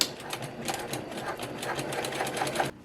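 A sewing machine bastes a pocket onto quilted bag lining in one close, continuous run of rapid stitching, then stops abruptly.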